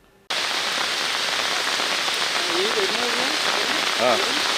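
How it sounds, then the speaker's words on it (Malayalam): Heavy rain in Ponnani, Kerala, a loud, steady downpour hissing on surfaces that starts abruptly and holds constant, with a faint voice briefly audible beneath it. "സംസ്ഥാനത്ത് അതിശക്തമായ മഴ"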